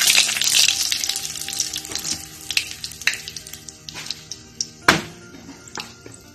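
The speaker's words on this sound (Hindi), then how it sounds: "अभी ये ऑयल गरम हो गया है, यहाँ हम लोग डालेंगे सरसों। सरसों डाल दिए, अभी हम यहाँ पर सूखी मिर्च डाल देंगे।" Mustard seeds and dried chillies fry in hot oil in a pan, giving a steady sizzle sprinkled with sharp pops and crackles, plus occasional clinks of a utensil against the pan, close and fairly quiet.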